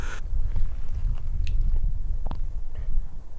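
Wet, squishy bites and chews on raw snake meat, a few irregular crunches and squelches close up over a low rumbling background, no talking.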